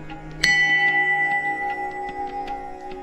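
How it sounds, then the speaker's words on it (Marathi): A metal temple bell is struck once, loud and close, then rings on with a long shimmering decay while faint lighter taps sound in the background. "घंटा वाजवून घेऊया"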